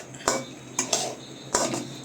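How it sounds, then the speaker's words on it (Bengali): A spoon stirring a sweet milk mixture in a metal pot, with a few sharp scraping clinks spaced irregularly over a quiet background. "দিয়ে এই যে নেড়ে নিচ্ছি।"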